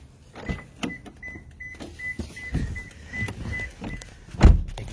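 Getting into a car: a series of soft thunks and shuffling movements, a door closing with a louder thud near the end, and a faint whirring tone in between, all quiet and close.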